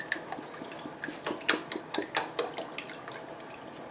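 Liquid pours from a 32-ounce container into a pot for shrimp and sausage pasta, giving splashing, dripping taps and light clinks of metal, close and fairly quiet.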